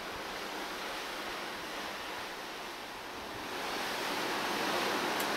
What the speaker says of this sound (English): I could just sit out here and just listen to the water day and night